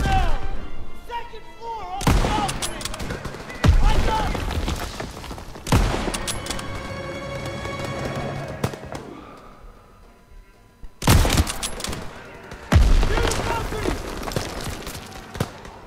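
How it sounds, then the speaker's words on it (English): Loud bursts of wartime gunfire in Call of Duty WW2 on PS4 during an ambush, several sharp volleys arriving in clusters with ringing tails and quieter gaps between them. "Alright, shoot the driver."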